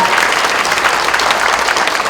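Audience applause at a book-launch talk concert, loud, dense and sustained clapping from a full room, steady throughout without a break.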